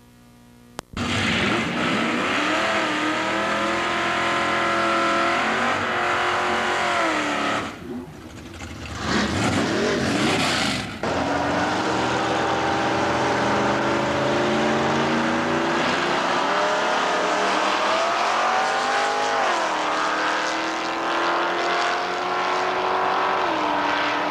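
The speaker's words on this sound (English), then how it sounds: "Jeff Townsend's Camaro will square off against the Duster of Doug Johnson." A Chevrolet Camaro and a Plymouth Duster race side by side at a 1997 drag strip: loud sustained engine roar with rising gear pulls, a brief dip partway through, then the screaming engines carrying on to the end.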